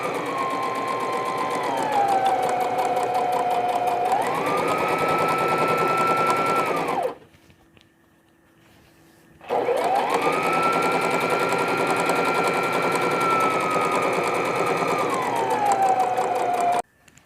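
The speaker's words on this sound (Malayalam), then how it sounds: "പില്ലോ ചുറ്റും സ്റ്റിച്ച് ചെയ്യുക" Sewing machine stitching around the edge of a mustard-seed baby pillow, a loud close steady whir running in two long bursts with a short pause between them and shifting in pitch as the speed changes.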